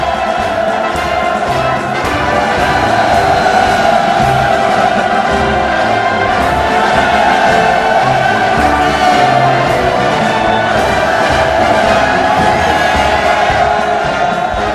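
A huge crowd cheering at a mass rally in Pyongyang celebrating the 110th birthday of Kim Il Sung, a loud, unbroken roar of massed voices with rhythmic shouts rising throughout.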